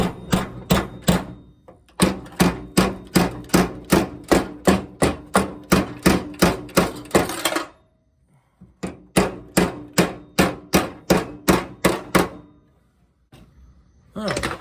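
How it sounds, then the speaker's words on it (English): Rapid, heavy hammer blows flattening sheet metal against the floor pan of a 1968 Firebird convertible, dozens of evenly spaced strikes in bursts with short pauses between, close and loud. "The piece here needs to be hammered flat against the floor pan here."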